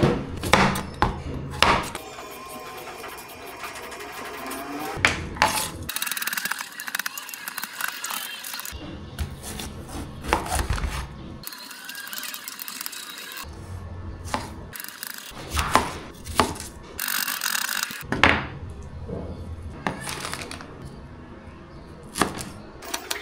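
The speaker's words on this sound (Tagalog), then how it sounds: "Mag-chop muna tayo ng mga gulay." Vegetables for Wai Wai noodles are chopped with a knife on a cutting board in a home kitchen in Nepal, with irregular bursts of sharp, close knocks separated by quiet pauses.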